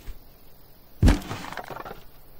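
A single sharp crack and thud as a crowbar forces something open in the video game Thief Simulator, loud and close, followed by brief rattling debris.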